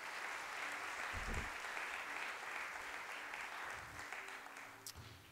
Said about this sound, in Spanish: ¿Será que le puedes regalar un aplauso al Señor Jesús?